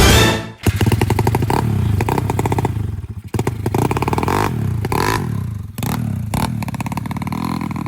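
A Yamaha Mio drag-race motorcycle engine revs hard and close, its raspy buzz surging and dropping through repeated throttle blips with brief cuts and some clattering, loud and alone without talk.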